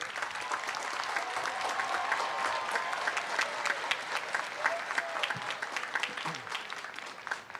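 A graduation ceremony audience claps in a long, even round of applause, heard as dense crackling hands that stay steady and then thin out slightly toward the end.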